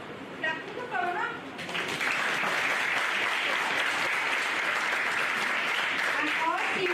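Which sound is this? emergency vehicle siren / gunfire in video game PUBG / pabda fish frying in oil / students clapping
students clapping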